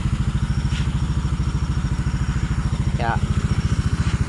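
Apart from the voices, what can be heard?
motorcycle engine idling after ignition coil repair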